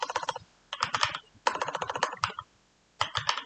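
Close, crisp clatter of keys as Python code is typed on a computer keyboard, in quick clustered bursts separated by short silent pauses.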